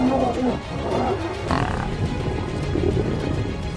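A lion's low, rumbling roar in the Serengeti, Tanzania, rises and falls, with a louder burst midway through, close and continuous.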